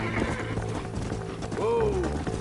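Horses gallop in a steady clip-clop rhythm within the Red Dead Redemption 2 game world, with a horse neighing partway through and a voice speaking over the hooves.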